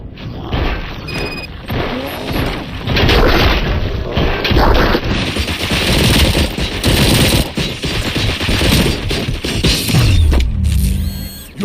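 Heavy automatic gunfire in RoboCop: Rogue City, dense loud bursts and booms with crashes that keep going almost without pause, close and overwhelming, with no voices over it.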